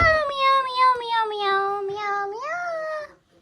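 A cat gives one long, drawn-out meow that rises in pitch near the end, close and clear against a quiet background.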